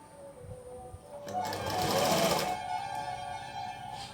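A sewing machine stitches piping onto a garment seam, a rapid mechanical whir that starts abruptly, runs loud and steady for about a second, then drops to a quieter motor hum.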